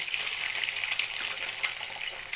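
Beaten egg frying in a kadai for a shredded egg scramble, a close, steady hiss and crackle of hot oil with small stirring scrapes throughout and no voices.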